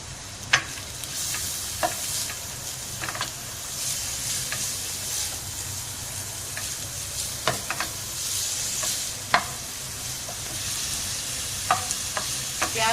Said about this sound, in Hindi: हमने चॉप की हुई प्याज डाली है इसमें।